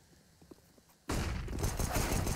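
Gunfire from a CS:GO match on the Cobblestone B site, in a double headshot. Quiet ambience and faint footsteps give way to a sudden loud burst of shots, followed by a dense sustained crackle of gunfire.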